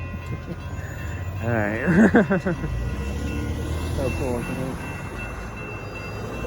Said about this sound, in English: There goes Northbound Union Pacific auto train.